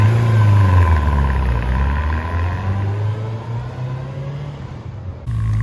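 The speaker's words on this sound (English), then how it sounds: "The sound of the bike, it doesn't quite have the cruiser sound to it, but it doesn't have the sport bike sound to it." A 1992 Honda Nighthawk CB750 motorcycle engine runs close by with a loud, steady low rumble, and its pitch drops slightly as it settles toward idle before cutting out near the end.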